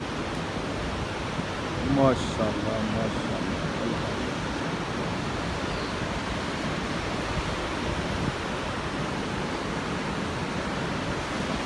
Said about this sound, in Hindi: ये पानी ऊपर से आके दरियाए स्टोर में शामिल हो रहा है। आप इसको आबशार कह लें।